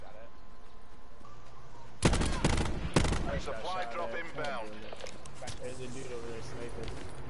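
Nearby gunfire from a firefight in the video game Call of Duty Blackout: two sharp, loud shots, then a busy spread of game sounds and voices beneath continuing talk.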